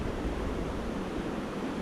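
A fast-running river along the Canon City, Colorado riverwalk makes a steady, dense rushing roar that stays constant and fairly loud, with no voices.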